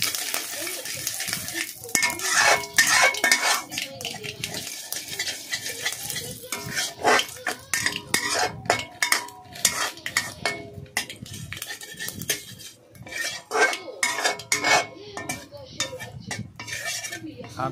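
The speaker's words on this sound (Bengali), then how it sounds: "সর্ষে দিয়ে সেটাকে ভালো করে ভাজলাম।" Mustard seeds fry in a pan while a utensil stirs, scraping and clinking against the metal over a light sizzle, close and uneven in rhythm; a voice talks at times.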